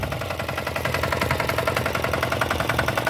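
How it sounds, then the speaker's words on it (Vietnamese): A Robin 60 diesel mini tiller engine runs steadily nearby, its rapid knocking diesel beat pulsing evenly for a few seconds with no talk over it. "Con Rubin 60 này cũng chạy bằng động cơ diesel nha cô chú chị."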